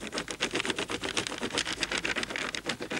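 Crayon rubbed back and forth on paper held against tree bark, a quick rhythmic scratchy scraping with even strokes, close and fairly faint.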